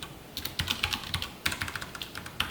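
Typing on a computer keyboard during a React coding lesson: quick, light key clicks in uneven bursts, close and fairly quiet, with no talking.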